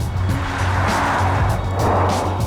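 A Porsche Taycan Turbo S electric car accelerates hard, giving a loud, continuous low hum with road and wind rush heard from inside the cabin.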